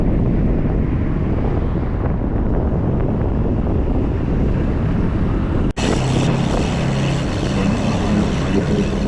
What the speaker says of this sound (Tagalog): nagkuha ako ng video habang sumasalubong sa kalakasan ng hangin